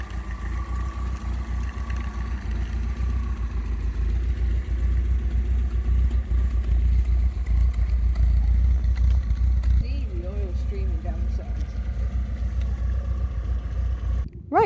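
An MGB GT engine runs after twelve months in storage, a steady low idling rumble close by that holds throughout, with someone talking over it partway through.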